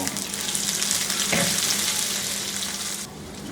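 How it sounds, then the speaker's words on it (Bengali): Onions frying in hot oil, a steady loud sizzle and crackle throughout, with a brief stirring scrape near the middle and no talking. "ওগুলা দিয়ে একটু ভেজে নিব পেঁয়াজের সাইডগুলো একটু বাদামি হওয়া পর্যন্ত"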